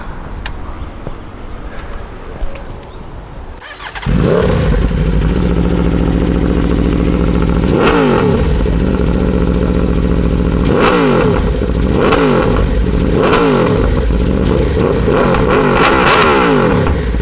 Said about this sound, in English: Can you please turn this bike on so we can hear the exhaust, please?